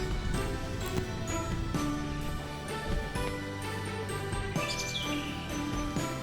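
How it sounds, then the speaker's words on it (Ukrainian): Birds singing near a cathedral in a town centre in Troyes, France, with many short chirps and tweets scattered over a busy, steady background of ambient street noise. "Тут якісь звуки птахів."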